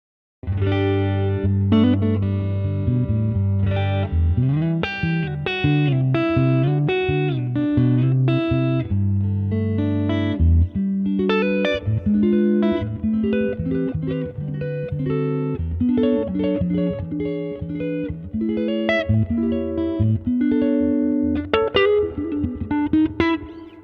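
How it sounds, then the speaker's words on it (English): A Fender Telecaster electric guitar on its neck pickup, played through an amp, warm and round, with sustained notes and chords ringing out continuously at a strong level. "We've got the neck pickup here. Let's have a listen and see how it sounds."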